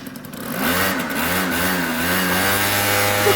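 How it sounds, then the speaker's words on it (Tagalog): A motorcycle engine revs up and drives off, with a steady mid-pitched drone that rises in pitch as it accelerates and holds loud and close, with no voices. "Alis na yung motor niya."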